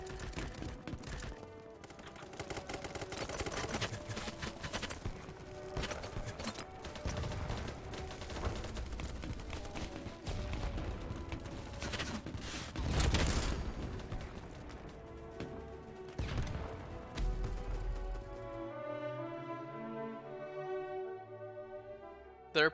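Rapid bursts of automatic gunfire crackle across a night map in the shooter game BattleBit Remastered, dense overlapping shots and distant exchanges running continuously before cutting to a quieter musical tail.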